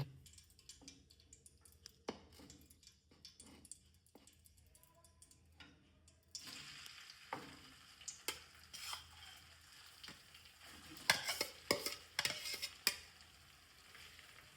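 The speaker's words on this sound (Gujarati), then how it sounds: "તો આપણે બટાકા છીણેલા એડ કરી દીધા છે કઢાઈમાં" Grated potatoes frying in hot ghee in a kadai, quiet at first with scattered ticks and scrapes, then a louder sizzle with sharp spoon clatters as the mix is stirred.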